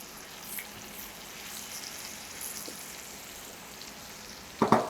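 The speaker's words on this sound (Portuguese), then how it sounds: "já tá saindo fumaça da panela, é o momento de eu colocar a minha carne" Beef hits a smoking-hot pan for searing, beginning as a faint, steady sizzle and ending in a sudden louder crackling burst.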